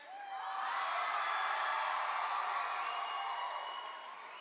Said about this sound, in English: Go on, give yourselves another cheer.